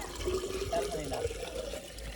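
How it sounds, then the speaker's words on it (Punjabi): Water gushes out of an upgraded hand pump, a continuous splashing flow under close, overlapping voices talking nearby. "ਚੱਲ ਆ ਗਿਆ ਪਾਣੀ"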